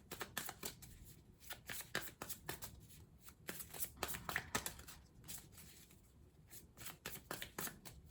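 An Arcanum tarot card deck is shuffled by hand at close range, giving quiet, rapid riffling and flicking bursts in an irregular rhythm throughout.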